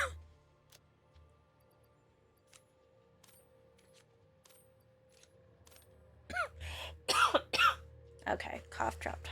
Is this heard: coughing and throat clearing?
yes